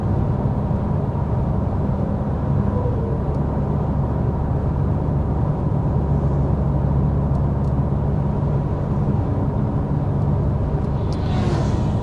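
Inside a 2025 Genesis G70 sport luxury sedan cruising at 55 mph, a low, steady road and engine rumble fills the quiet cabin, even and continuous, with no talking.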